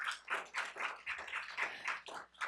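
Faint applause from an audience at a Tempe municipal equality index press conference: a steady run of hand claps in quick, even pulses, heard alone without speech.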